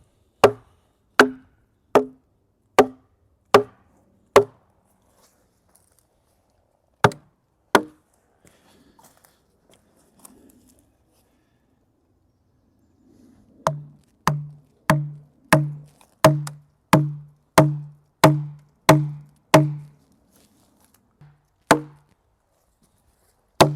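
Sweet chestnut logs being split with hammered wooden wedges: a run of sharp, evenly spaced knocks, a short pause, then a longer, quicker series of heavier, deeper blows, all close and loud with no talk.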